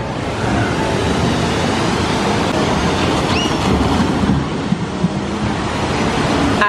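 Loud, continuous rushing and splashing of water from a water ride at Toon Lagoon in Islands of Adventure, a broad roar with no clear speech.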